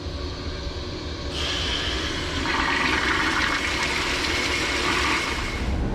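Water rushes out of a LAARS hydronic boiler in a steady, loud gushing stream that swells stronger partway through and stays constant to the end.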